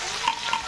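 A spatula stirs sautéing ginger, garlic and onion in a hot pan, with a quick couple of scraping strokes over a continuous close sizzle.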